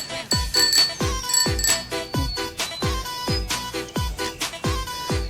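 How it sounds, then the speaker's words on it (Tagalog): A bicycle bell on a neon green Loro mountain bike rings repeatedly in quick, bright metallic dings, about a dozen strikes in a lively irregular rhythm, loud and close with no talk. "Sabay yung bell ko pala dito"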